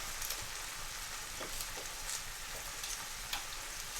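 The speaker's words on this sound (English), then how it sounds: "I'm just about to now add the garlic cloves and the curry leaves" Potatoes with garlic cloves and curry leaves frying in a pan for Punjabi achari aloo, giving a steady close sizzle with scattered scraping taps from stirring, and no voices.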